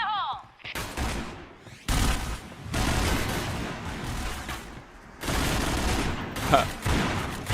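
Pistol gunfire in the video game PUBG, with sharp shots in several rapid volleys separated by short gaps, loud and close, and a brief voice at the very start.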